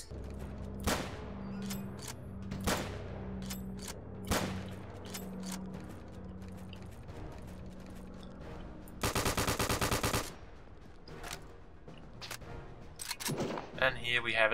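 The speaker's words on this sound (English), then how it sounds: "The new gun, the FG-42 paratrooper rifle, semi-automatic, scoped, and quite a beast." FG-42 paratrooper rifle fire in the video game RTCW, a semi-automatic scoped rifle, loud sharp single shots at an uneven pace, then a dense sustained burst of rapid fire near the end, over game ambience.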